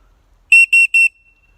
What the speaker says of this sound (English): on the other end, you can see we have an emergency whistle.